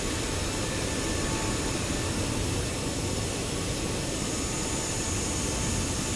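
A jet airliner roars steadily during takeoff in Microsoft Flight Simulator 2020, a loud, dense, unbroken engine rush filling the whole stretch without voices.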